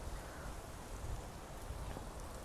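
Steady rain falls over an open park in Auckland, a dense even hiss with soft low patter running throughout, no voices.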